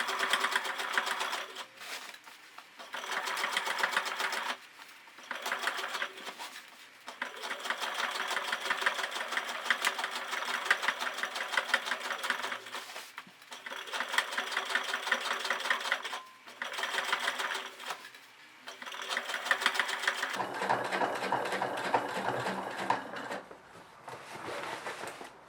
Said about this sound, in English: So just top stitch right along the seam line, right there. Top stitch all around until you get to the other side.